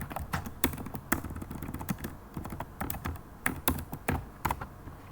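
Rapid, uneven clatter of keys on a computer keyboard as JavaScript code is typed, close and fairly quiet, with irregular bursts of keystrokes and no talking.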